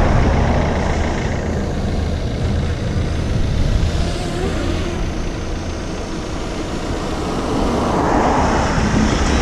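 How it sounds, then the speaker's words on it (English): A drone flying outdoors and being brought down to land, its steady engine-like drone loud and continuous throughout with no talk over it. "So let's bring your drone down."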